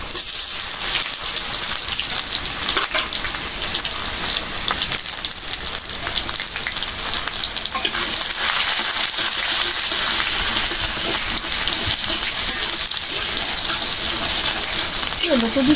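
Bombay chilli and garlic fry in oil, a dense, even sizzle that hisses steadily and loudly throughout, sounding much like heavy rain.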